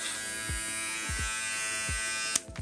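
An inexpensive plastic electric head shaver bought from Temu runs with a steady, strong buzzing whine, close and continuous, with a click as it stops near the end.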